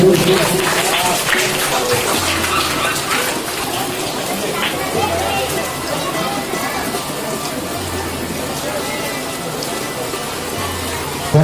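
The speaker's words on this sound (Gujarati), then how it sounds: "તાળીઓના ગરગડાટથી આપણે એમને વધારતા રહીશું" Sustained applause from an audience at a primary school girls' education and school enrollment festival during a prize-giving, a dense even roar of clapping lasting throughout with voices mixed in.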